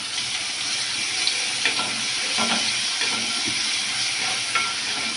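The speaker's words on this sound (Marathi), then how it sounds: "आणि आता टाकत आहे त्यामध्ये वाटलेला जाडसर जो हिरवी मिरची, लसूण आणि कोथिंबीरचा मसाला" Coarsely ground masala of green chili, garlic and coriander frying in oil for kadhi, a steady close sizzle with occasional stirring scrapes and bubbling, no talking.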